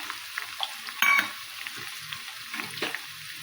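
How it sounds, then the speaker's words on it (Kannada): Peanuts fry in hot oil in a pan for avalakki chuda, a soft continuous sizzle broken by scraping stirs and a brief louder clatter, with no talking. "ಸ್ವಲ್ಪ ಫ್ರೈ ಮಾಡ್ತೀನಿ ತಿರುಗಾಡ್ದಿಂದ. ಈಗ ಶೇಂಗಾ ಹಾಕೋತೀನಿ"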